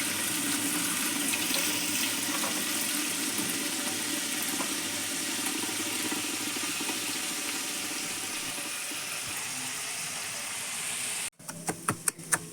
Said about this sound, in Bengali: সেদ্ধ করে রাখা মোচার জলটাকে ঝরিয়ে নিতে হবে।